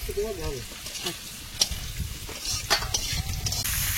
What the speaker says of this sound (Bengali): মাছের মাথাটা ভেজে নেই